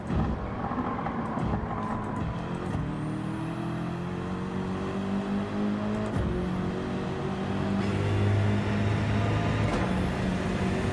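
BMW race car in Gran Turismo 7, group 3 racing: a loud, continuous engine drone rising and falling through gear changes, pitch climbing then dropping in repeated sweeps, steady throughout with no talking.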